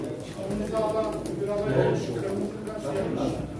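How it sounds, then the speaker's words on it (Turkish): Several turtle doves coo softly at a pigeon auction, the low, rolling coos faint beneath someone speaking and a busy background of other birds. "Beyler, dört tane kumru."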